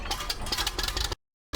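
A Ferguson TED 20 tractor engine running with a loud, steady, rattling chug close by, then cutting out into brief silence before the sound returns.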